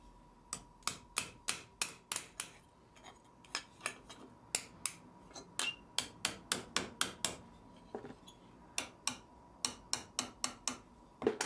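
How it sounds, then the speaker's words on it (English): Hammer driving hand-forged iron lugs for a trunk handle into place over steel vise jaws, a steady run of sharp metallic taps in quick groups with short pauses, close and fairly quiet, no talk. "the lugs are driven into place. I do this over the jaws of the vise"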